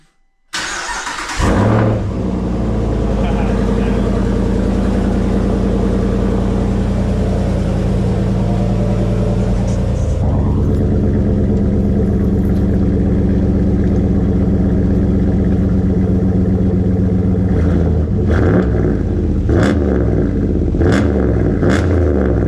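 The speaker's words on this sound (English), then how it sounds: "I'll give it a couple revs and see what the neighbors think." A fifth-generation Ram truck's 5.7 Hemi V8 with a muffler delete fires up loudly, idles with a deep steady rumble, then takes several sharp revs near the end, close and very loud.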